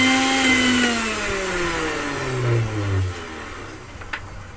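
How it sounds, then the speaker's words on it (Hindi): A Maharaja Whiteline mixer grinder with a noisy motor runs loudly and close, its whine gradually winding down with a rough, rattling hum, with no voices. "देखिए इस तरह से जो मिक्सी साउंड करती है"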